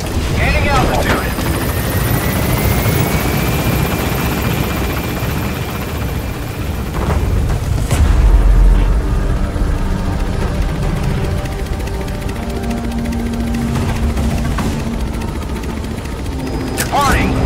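Helicopter taking off in the video game Metal Gear Solid V, a loud continuous rotor roar with thumps and a rising whine as it gains altitude, with radio voices over it.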